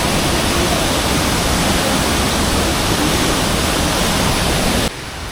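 Hulugan Falls, a tall waterfall, roaring as a loud, dense, unbroken wash of water noise that drops abruptly in level near the end, with no talk.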